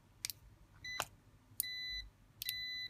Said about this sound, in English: when it's closed circuit, you get a beep.